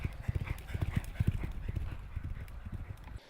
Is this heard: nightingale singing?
no